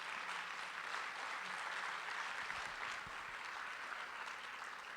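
Applause from the audience at a neighborhood poster contest event, a steady wash of clapping that holds for the whole stretch at moderate distance.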